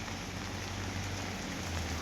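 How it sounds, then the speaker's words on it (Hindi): Steady rain falls outdoors in Manali in the mountains, a dense, continuous hiss from start to finish with no pauses and no voices. "अभी भी बारिश जो है कंटिन्यूस हो रही है"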